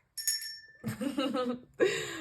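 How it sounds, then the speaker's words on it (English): A small bell rings with a short bright ding, and then a person speaks and laughs close by, followed by a second brief ring at the end. "I think I have a bell."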